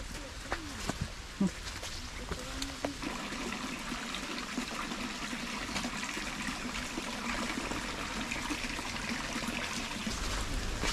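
Rain falls over the hills while water flows steadily nearby, a constant wash of rushing sound with a few brief knocks early on and a voice talking over it.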